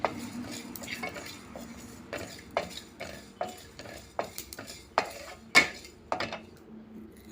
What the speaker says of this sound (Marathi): तर बडीशेपमध्ये मी हे जिरं गरम करून घेते